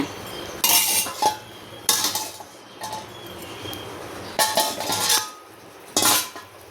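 Amla rasam being ladled from a pot into a cup: a series of close metallic clinks and scrapes from the ladle against the pot, coming in short bursts with brief pauses between them.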